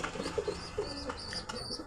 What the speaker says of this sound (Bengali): এই যে এটা হলো মাদি কবুতর এই সামনেরটা মাদি এটা নর